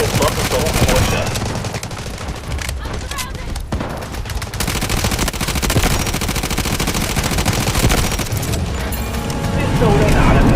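Guided missile strikes in the Delta Force video game land as a dense, continuous barrage of booming explosions mixed with rapid gunfire, loud and sustained throughout, with in-game voices calling out over the chaos.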